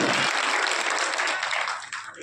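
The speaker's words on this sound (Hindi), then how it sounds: "जोरदार ताली बजाकर इनका एक बार अभिनंदन।" An audience bursts into loud, sustained applause after a performance at a political gathering. The clapping holds steady for the whole stretch and eases off slightly near the end.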